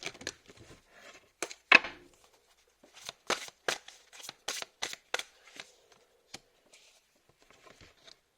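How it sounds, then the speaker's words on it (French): Tarot cards are shuffled and drawn by hand at close range, giving quiet, irregular bursts of riffling and flicking with short taps and gaps between them, with no talk. "Je vais tirer une dernière carte."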